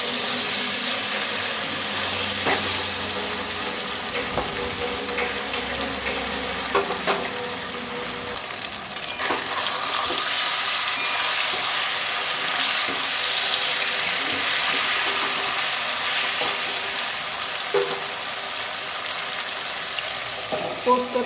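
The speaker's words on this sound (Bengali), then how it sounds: "এবার আমি ভেজে নিচ্ছি। এবার আমি সর্ষের তেলে করছি।" Food frying in mustard oil in a pan, a continuous bright sizzle with occasional clinks and stirring scrapes, steady and close throughout.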